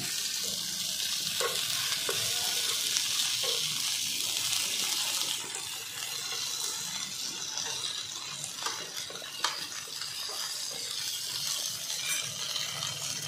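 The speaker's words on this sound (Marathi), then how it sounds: "हे कटलेट्स थोडे मंद आचेवरच फ्राय करून घ्यायचे आहेत" Poha cutlets fry in oil on low heat, giving a steady hiss and sizzle that is louder at first and then settles, with faint crackles and no talking.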